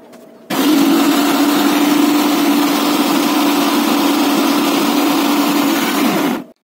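A blender runs continuously on raw egg mayonnaise ingredients and regular cooking oil, a loud steady whir that starts abruptly after a brief quiet moment and holds for about six seconds before cutting off.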